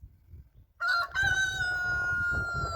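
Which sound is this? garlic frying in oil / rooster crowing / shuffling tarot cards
rooster crowing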